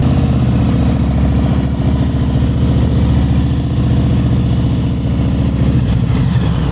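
A motorcycle brakes to a stop during a slow-speed control drill, with a loud engine rumbling close by and a thin, wavering brake squeal sustained over it, steady throughout without speech.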